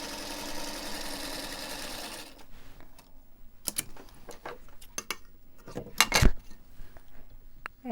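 A sewing machine hums through a seam on recycled denim jeans for about two seconds, then falls silent, followed by scattered clicks and clatters of handling nearby.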